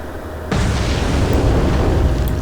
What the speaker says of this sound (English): Here comes my torpedo.